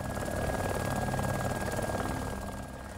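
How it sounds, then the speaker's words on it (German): A bugged helicopter in the DayZ game roars continuously with a dense, pulsing rotor chop that fills the whole stretch, loud and close, with faint game sounds underneath. "Der ist komplett verbuggt, der Hubschrauber."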